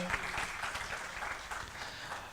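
A crowd at a Uganda-UAE business forum applauds steadily, a dense wash of clapping that holds at an even level throughout with no pauses.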